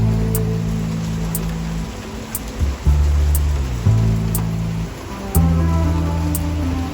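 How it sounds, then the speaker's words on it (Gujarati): Heavy rain pours steadily outside on a cold morning, a dense continuous wash of water noise that swells and fades slightly, with no voices over it. "મુસળાધાર વરસાદ વધી રહ્યો છે, જબરદસ્ત છે આજ તો"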